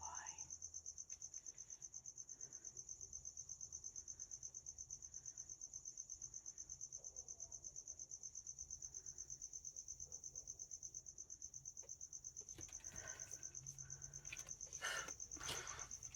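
Crickets chirping at night indoors, a steady high pulsing trill that continues throughout, faint and distant, with brief soft handling noises near the end.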